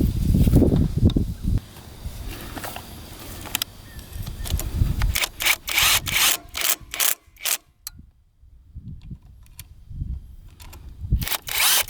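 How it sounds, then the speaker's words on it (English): An old stator is refitted on a bogging Honda dirt bike, heard as close metallic clicks, taps and ratcheting rattles in irregular bursts, with a quiet pause midway before more sharp clinks. "old stator going back on"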